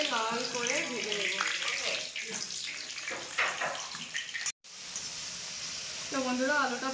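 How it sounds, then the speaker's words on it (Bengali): Potato pieces fry in hot oil until browned for chicken biryani, making a dense, continuous sizzle close up, with someone talking over much of it and the frying heard alone near the end. "আলুটাকে আমি ভালোভাবে লাল করে ভেজে নেব"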